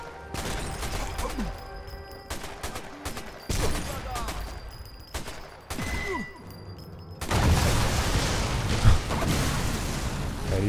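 Gunfire in the video game Sniper Elite 4, repeated shots and bursts through the stretch, then a louder dense barrage of firing and explosions, close and intense.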